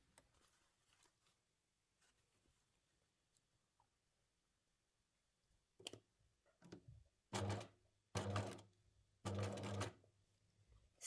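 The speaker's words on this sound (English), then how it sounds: "I'll just show you how to sew the 2 seams in one go." A domestic sewing machine stitches two seams of a garment in short separate bursts, quiet handling and rustling first, then loud close runs of rapid mechanical whirring.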